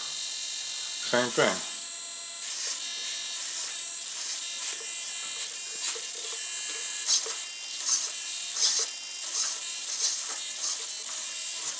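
A small RC helicopter's electric rotor whines in a high, steady, buzzing hum that holds throughout, with brief mechanical clicks and someone speaking over it.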